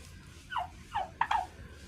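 Three short, rising-then-falling turkey gobbles, one after another, faint but distinct against a quiet outdoor farm background.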